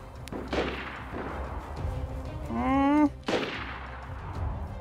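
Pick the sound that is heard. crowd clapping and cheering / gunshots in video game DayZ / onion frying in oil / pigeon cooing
gunshots in video game DayZ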